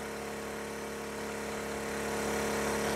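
Champion 2500-watt dual fuel portable generator running steadily at about 4260 RPM with eco mode off, a continuous droning engine hum that swells slightly louder toward the end, close by with no talking.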